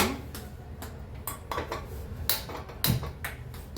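A metal wok clanks and scrapes in a series of sharp knocks, close by, with no talking.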